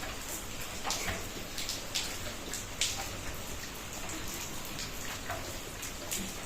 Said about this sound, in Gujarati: અને મિત્રો હજી વરસાદ આવે છે, કયુંનું ચાલુ છે.